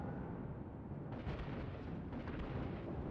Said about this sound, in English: look at the secondary guns shooting at him left, right and center